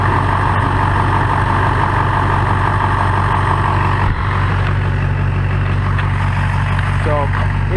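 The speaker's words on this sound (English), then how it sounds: "Engine's running." An LB7 Duramax diesel truck engine idling, a loud, steady low rumble with a constant throb, close by and unbroken, with faint speech briefly over it.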